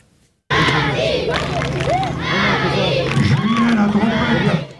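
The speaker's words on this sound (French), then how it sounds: "Ils étaient 250 à crier pour encourager les rasoteurs." About 250 schoolchildren at a Camargue bull race, a traditional bull-shaving event, shout and cheer on the raseteurs. After a moment of silence, loud, continuous crowd yelling rises and holds steady.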